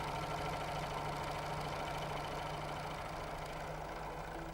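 A Janome 6234XL overlocker sews fabric with a steady, close, continuous motor hum and rapid stitching drone, with no talking.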